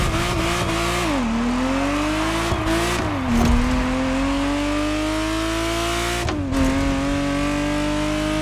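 Ferrari Testarossa engine in The Crew Motorfest racing game, a loud, steady near drone with pitch climbing through gear after gear, dropping sharply at each shift around one, three and six seconds, then rising again without pause.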